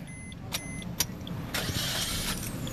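The ignition key of a 2019 Suzuki Ertiga GL is turned by hand, giving a couple of sharp mechanical clicks followed by a rising, rough rush of engine noise close by.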